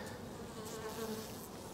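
Honey bees buzz inside an opened hive, a faint, steady hum of many insects close by with no voices.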